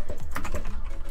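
Computer keyboard typing during a Minecraft Survival Games match: a quick burst of several clicky keystrokes in about a second, fairly close and steady, with no talking.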